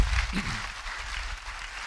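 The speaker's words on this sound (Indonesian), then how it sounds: "Beri tepuk tangan yang baik bagi dia." A brief burst of steady applause from a church congregation, continuous hand clapping with no voices standing out.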